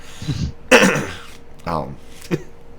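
A person clears their throat a few times in short, rough bursts, with brief pauses between each one, close and fairly loud.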